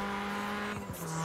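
A car drives in Forza Horizon 4 on the wrong side of the road, its engine holding a steady drone with a brief swoop in pitch near the end, close and fairly loud, no speech.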